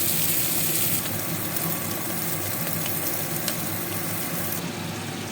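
Chhana paturi wrapped in pumpkin leaves fries in a covered pan, giving a steady, close sizzling hiss that runs unbroken throughout with no talking.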